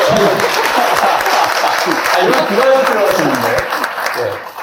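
An audience at a book concert bursts into applause and laughter, a dense patter of clapping that lasts through the clip while a voice speaks over it.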